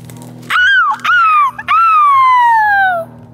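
Children imitating wild animals to scare something off, producing two drawn-out, falling howl-like vocal calls, loud and close, separated by a short break.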